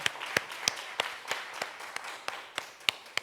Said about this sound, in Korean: 우리 주께 영광의 박수 한번 올려드리겠습니다.